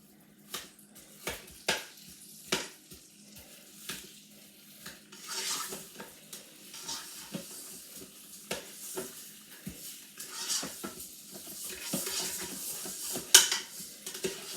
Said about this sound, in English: Browning my meat and my onion, dried onion